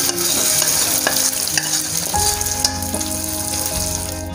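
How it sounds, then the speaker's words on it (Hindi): Chicken pieces frying in about two tablespoons of hot oil for chow mein, a loud steady sizzle with spatula scrapes and stirring, the crackle jumping sharply as more chicken hits the pan midway. "चिकन को मैं अब तब तक फ्राई करूँगा जब तक इसका हल्का सा कलर ना आ जाए"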